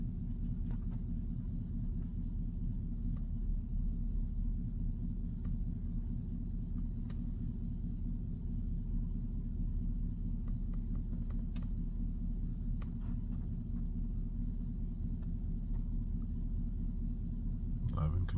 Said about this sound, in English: I think the tires are making noise on this thing.